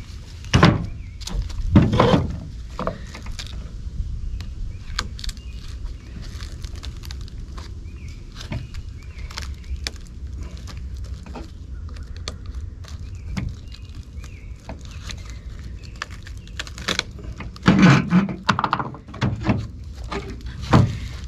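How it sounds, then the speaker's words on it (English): A tight fiberglass channel layup is pried off its mold with scattered dull thunks, knocks and creaks, including a couple of louder bursts of cracking, all close by. "It's a tight fit on here, which is why it's coming off a little more difficult to pry it off"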